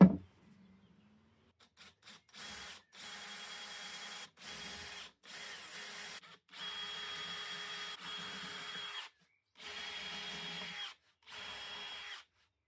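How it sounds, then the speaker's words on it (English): A power drill with a self-centering bit whirs in repeated bursts of a few seconds each, boring holes in a wooden coffee table leg, separated by short pauses, close and steady, with no talking. "I use a self-centering drill bit and drilled 2 holes that I could access"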